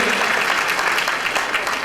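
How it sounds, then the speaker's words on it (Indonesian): An audience at a corporate gathering in Indonesia breaks into applause, a dense, steady burst of many hands clapping close and loud throughout. "Tepuk tangan oleh semua."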